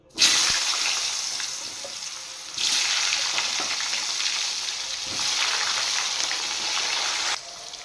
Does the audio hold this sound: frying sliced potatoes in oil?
yes